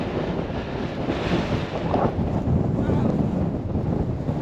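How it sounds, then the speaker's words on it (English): Heavy wind buffets the microphone at Dunnet Head, Scotland, in a constant low roar, loud and unbroken throughout, with no clear voices coming through. "I have no idea how much the wind is being picked up"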